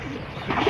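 Pigeons at a private zoo, a short soft cooing close by that grows slightly louder toward the end, with no talk over it.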